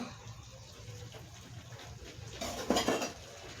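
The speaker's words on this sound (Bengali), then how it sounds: "ধনে পাতাটা দিয়ে এবার ভালো করে নাড়াবো" A spoon stirs vegetable curry with chopped coriander leaves in a pan. Soft scraping and a brief burst of louder metallic clatter sit near the end over quiet kitchen background noise.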